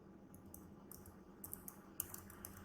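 Someone types Java code on a computer keyboard, with soft, quiet keystrokes in a light irregular run of clicks over a low background hum.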